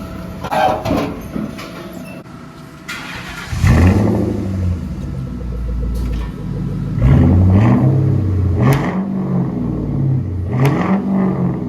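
A hot rod engine revs hard in repeated bursts, deep throaty exhaust rising and falling, loud and close with no talking.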